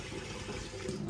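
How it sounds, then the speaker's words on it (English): Cold tap water runs steadily into a CamelBak hydration bladder, a close, continuous splashing hiss with a slight gurgle as it fills. "it's a nice fresh cold water running"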